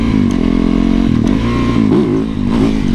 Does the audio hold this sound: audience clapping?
no